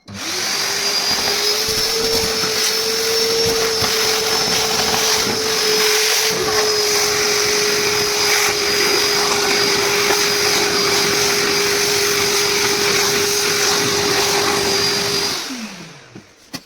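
A wet vacuum cleaner runs loudly and steadily with a constant motor whine, then winds down as it is switched off near the end.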